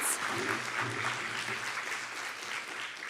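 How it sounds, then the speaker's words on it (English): An audience at a research conference on forced displacement applauds after presentations, with steady, moderately loud clapping that tapers slightly toward the end. "a big round of applause for Shelby"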